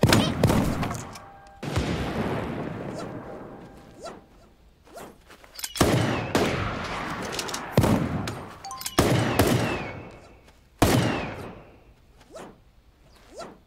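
Gunfire in the Super Animal Royale battle royale game: several sharp bursts of shots separated by short pauses, some close and loud, with whooshes and a reload between them.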